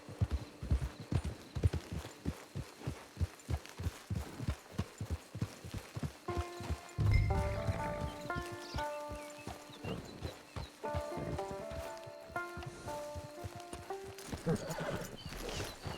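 Horse hooves clip-clopping steadily in the video game Red Dead Online, with a loud whinny partway through over background music, then more hoofbeats continuing.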